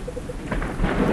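Steady rain pouring down with a low rumble of thunder building and growing louder toward the end, heard on its own without speech.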